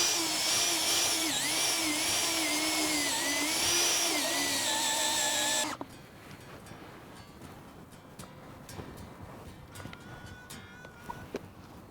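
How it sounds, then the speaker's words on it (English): A loud, steady drill whines for several seconds re-drilling a dirt hole for a coyote and bobcat trap set, then cuts off abruptly, leaving quieter scraping and tapping sounds. "We're going to go ahead and re-drill it out."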